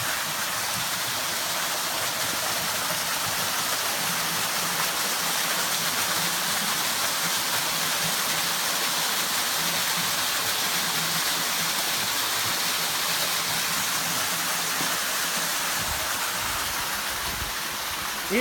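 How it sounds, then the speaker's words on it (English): A large waterfall over layered rock in Douglas County, Missouri, roaring as a constant broadband rush of falling water, steady and unbroken throughout with no voices. "We followed the sound of the water, and we found what appears to be an enormous waterfall."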